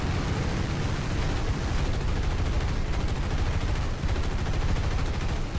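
Sustained War Thunder gunfire rattles without pause, dense overlapping bursts and tracer rounds streaming through a city battle. The barrage stays loud and constant throughout, with no one speaking.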